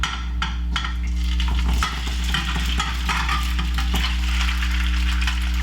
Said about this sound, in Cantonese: 跟住咧就將啲白糕倒落去煎下佢啦